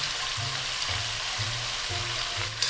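Edamame sizzles and fries in rendered bacon fat in a light pan, a steady loud crackle with a regular low scraping rhythm from stirring.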